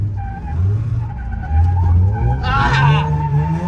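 A drift car spinning its tires on a slick track, with a steady engine drone and wavering high tire squeal that swells toward the end. A voice talks over it.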